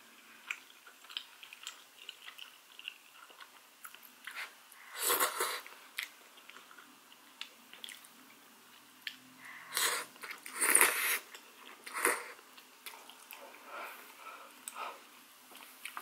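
Close, quiet chewing and biting of spicy tteokbokki during a mukbang meal, soft sticky mouth sounds with a few louder wet bites spaced through a hushed stretch, no talking.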